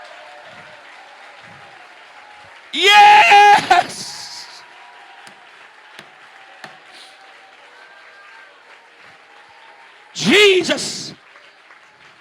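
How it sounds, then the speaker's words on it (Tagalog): Two short loud bursts of cheering and shouting from a church congregation at a mission summit, separated by a quiet stretch with faint background sounds, and the voices ring out in acclamation more than steady clapping. "Tagana itong kusog nga palakpak ang Diyos"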